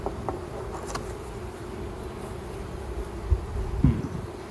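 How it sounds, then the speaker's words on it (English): Honeybees hum steadily inside an open hive during a late-April inspection, a continuous close drone with a few soft knocks and thumps near the end. "I hear a lot of bees, so that's good."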